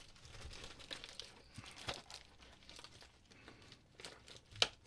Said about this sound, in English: you can see me with the knife puncturing through the parcel